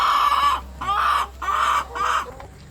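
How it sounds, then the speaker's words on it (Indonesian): Laying hens at feeding time, clucking and cackling loudly and close in three or four bursts with short pauses, over a steady low hum. "Saat ini momen bagaimana ayam ini diberi pakan dan reaksinya seperti apa."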